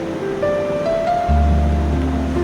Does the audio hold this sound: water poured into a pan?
yes